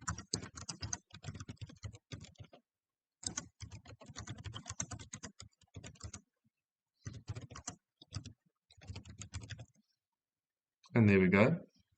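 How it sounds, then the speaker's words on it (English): Bursts of rapid key presses on a computer keyboard while a footnote is typed into a Word document, close and crisp, in short runs separated by pauses, with a brief louder sound at the end. "we can start typing our footnote"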